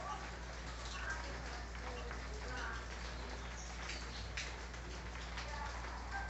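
Light rain patters steadily on a Green-winged Saltator's cage, a soft, continuous sprinkle with faint bird sounds and a low hum underneath.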